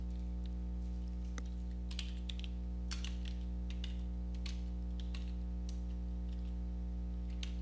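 Keys clatter in irregular bursts as a headline is typed on a computer keyboard, quiet, close clicks over a steady low electrical hum with no talking.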